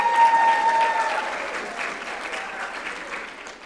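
Applause from a graduating class and guests at a 2019 College of Health Related Professions convocation, a dense, steady round of clapping that stays fairly loud and slowly fades across a few seconds.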